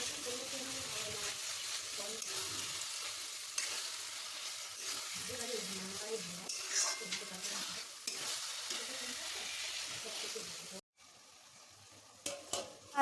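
Marinated mutton mince frying in a pan, stirred and sizzling steadily with scraping of the spatula, close and moderately loud, ending in a brief quieter stretch with a few clinks.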